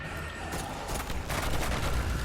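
Rapid primary-weapon gunfire in the video game Destiny: dense, continuous bursts of shots rattle loudly and steadily through the whole moment, with no pauses and no voices.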